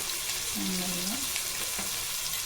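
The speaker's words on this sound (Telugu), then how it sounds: "ఇప్పుడు ఇందులో కారం అన్నీ వేద్దాం." Chili powder and spices go into hot oil for sambar, giving a soft sizzle and frying crackle with a brief stirring sound, faint and close.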